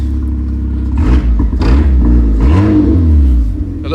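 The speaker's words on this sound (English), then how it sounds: "it sounds like a sports car, because I think he's ripped the exhaust off" A small Fiat 1.2 car engine with its exhaust ripped off revs repeatedly with a rough, raspy, blatting exhaust note, loud and close, rising and falling in bursts.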